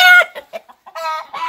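A rooster, agitated by another male near its hens, gives loud close clucks and short harsh calls, several bursts in quick succession with brief gaps between them.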